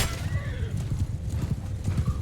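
Horse hooves in the game Mount & Blade 2 beat in a fast, steady galloping rhythm during a cavalry battle, over a dense rumble of fighting with a brief neigh early on.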